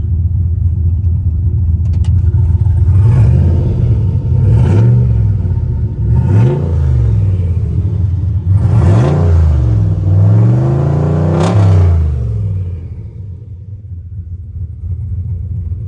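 A deep turbocharged LS V8 in a 1993 Ford Mustang Fox-body revs up hard several times in a row, each rise and fall loud and rumbling, then settles back to a low idle.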